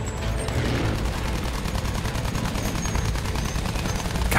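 Bomber aircraft machine guns firing in Battlefield 1 during a plane mission, a steady, loud, rapid rattle of automatic fire over a constant engine roar, with no pauses.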